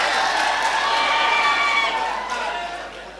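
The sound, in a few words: audience applause at a mushaira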